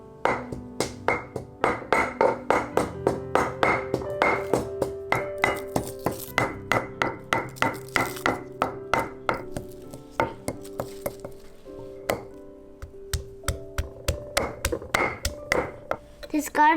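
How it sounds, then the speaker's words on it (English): Chili peppers are pounded with lime, garlic, salt, sugar and fish sauce for a cucumber salad sauce, giving a fast, steady series of close, sharp taps and thuds that runs throughout with little pause. "First we need to smash these peppers."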